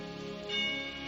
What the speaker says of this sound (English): When you hear the musical chimes